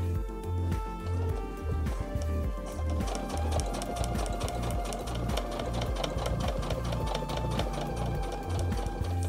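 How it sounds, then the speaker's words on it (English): A sewing machine top-stitches a PUL nappy cover beside its elastic. The motor hum and needle chatter run steadily throughout, starting slower and then speeding into a fast, even rattle that is close and loud. "I'm going to top stitch alongside, being very careful not to catch that elastic."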